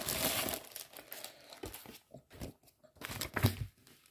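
Paper wrapping on a Lego Ninjago comic crinkles and rustles in bursts, then tears open in a few sharp rips, close by and fairly loud.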